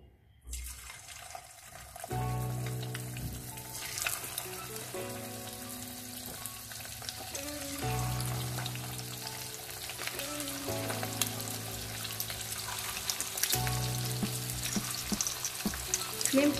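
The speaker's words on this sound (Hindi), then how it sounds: "और अब हमारा तेल गर्म हो चुका है, इसमें अब हम चिकन के पीसेस डालेंगे।" Chicken pieces dropped into hot oil in a pan set off a loud, dense sizzle that holds steady throughout, with a low background hum and occasional crackles, close up and free of talk.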